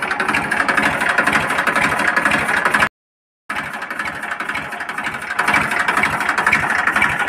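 A Massey Ferguson 1035 tractor engine idling nearby with a steady, fast chugging rhythm and a rattly mechanical texture, loud and continuous apart from a short cut-out midway.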